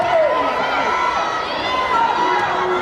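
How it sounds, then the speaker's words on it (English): At a Jefferson College women's basketball game against Mineral Area, the crowd yells steadily through an opponent's free throws, a dense, continuous roar with an announcer talking over it. "You can hear the crowd trying to mess with the focus of the Lady Cardinals shooting"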